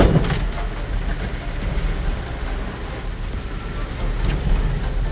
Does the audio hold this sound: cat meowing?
no